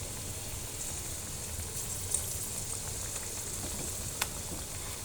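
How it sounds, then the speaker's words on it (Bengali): Bread slices coated in egg frying in a pan, giving a soft, continuous sizzle and crackle close by, with a couple of brief clinks. "এভাবে আমি সবগুলো ভেজে নেব।"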